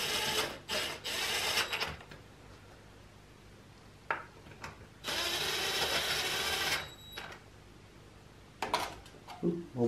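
A ratchet torquing bolts on an aluminum transmission oil pan, heard as close, fast clicking bursts of a few seconds each, separated by short pauses and softer isolated clicks.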